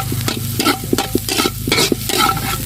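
Ginger tossed into a hot frying pan and stirred, with steady sizzling under repeated scraping and clattering of a spatula against the pan, loud and close.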